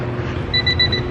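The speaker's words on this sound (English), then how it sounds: "It beeps, but it's not gonna crank." A Honda Civic EF with a dead battery gives a thin, steady electronic beep repeated rapidly for about half a second instead of cranking, close by over a low background hum.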